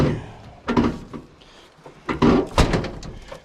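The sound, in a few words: old truck door opening and closing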